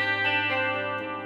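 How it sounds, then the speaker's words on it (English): Electric guitar from a Les Paul Custom rings out on a clean compressed channel through a Gallien Krueger 2000 CPL preamp with chorus engaged, one brief sustained chord fading slowly. "Got the chorus on."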